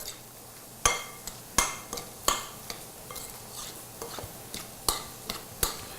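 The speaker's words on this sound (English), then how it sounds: "We're going to stir this together." A spoon stirs a bowl of peaches and blueberries with sugar, tapioca and lemon juice or apple cider vinegar, giving off a string of crisp taps and clinks against the bowl at an uneven pace.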